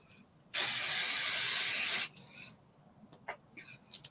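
A spray can hisses in one sustained burst of about one and a half seconds, loud and close, followed by quieter rustling and small handling taps.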